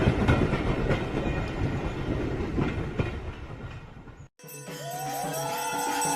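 A train rumbles and clatters steadily along the rails, loud and close, before the sound cuts off abruptly and gives way to a different tonal sound.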